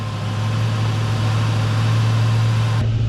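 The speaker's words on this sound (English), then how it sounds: "I'm keeping the RPM up so it doesn't stall once it engages" A twin-turbo LSX V8 in a Chevelle with a DCT transmission holds a steady, loud rumbling idle with the revs kept up, droning evenly before cutting off abruptly near the end.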